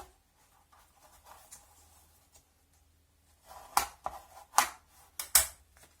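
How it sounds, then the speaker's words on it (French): Sharp dry scrapes and swipes of a bone folder creasing paper for a mini accordion album, a few quiet rubs followed by several loud close strokes, with no talking. "un petit coup de plioir"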